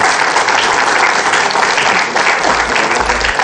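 A group of women in an Indonesian religious gathering applaud together, a close, loud, continuous patter of clapping with low rumbling bumps underneath near the end.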